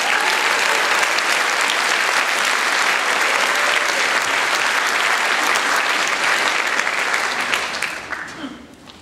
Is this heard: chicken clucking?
no